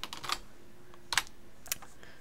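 Keyboard shortcuts tapped on a computer keyboard during video editing, a few quick clusters of crisp key clicks separated by short pauses, quiet and close.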